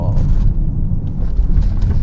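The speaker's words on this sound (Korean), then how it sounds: "방지턱" An Audi A7 50 TDI quattro in dynamic mode with electronic damping control brakes and rolls over a speed bump, giving a low, steady cabin rumble with a soft thump partway through.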